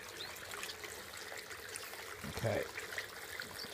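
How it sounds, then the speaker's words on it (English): A water fountain runs in a finch aviary with young painted finches and gouldians, giving a steady, soft trickle throughout, with a brief spoken word and a low thump partway through. "There's the water fountain running nicely."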